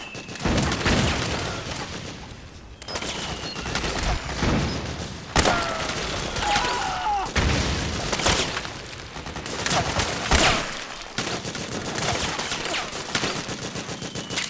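Rapid sniper rifle fire from an SVD in the video game Metal Gear Solid 4, a dense run of loud cracking shots and booms with thuds and debris.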